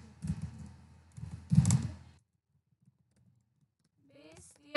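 Keyboard typing while entering a Django template path setting: two bursts of clicky keystrokes close up, then near silence with a few faint taps, and a short sound at the end.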